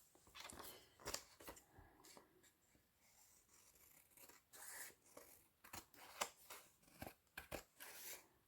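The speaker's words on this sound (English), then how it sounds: "I should be able to do this without fear of cutting the envelope." Scissors snip through a paper flip-tag envelope pocket in a crafting project, giving a run of crisp, close cuts and rustling paper in uneven bursts, faint overall with no talk.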